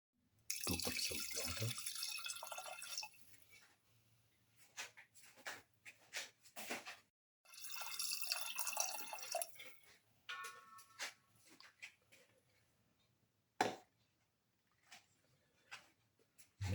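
Water pouring from a tap for a pepper beef rice bowl in a pressure cooker, in two longer streams with splashes and drips between them, close by and fairly quiet.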